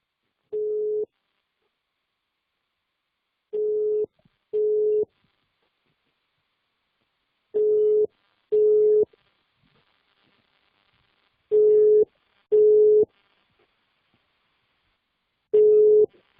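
A telephone on-hold tone sounds on a call, as short, steady beeps, single or in pairs, separated by long silent gaps.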